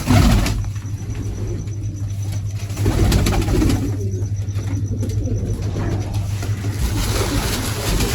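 Cooing from pigeons kept in a loft rises faintly through a dense, steady wash of background noise, the calls blending into a constant hum rather than standing out.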